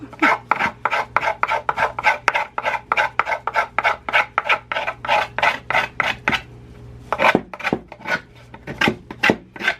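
A knife blade scrapes repeatedly across painted wood to distress it, a steady series of rasping strokes with a brief pause before a few final scrapes, close and alone.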